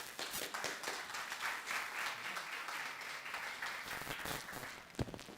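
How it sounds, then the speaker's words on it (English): An audience at a youth lab event bursts into sustained applause, a dense, continuous patter of many hands clapping at steady loudness, with one sharper clap near the end and no speech over it. "Round of applause, please."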